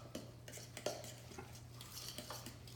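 A spoon stirs homemade BBQ sauce in a bowl, giving soft scraping strokes and light clinks against the side in an uneven rhythm, quiet and close, with no talking.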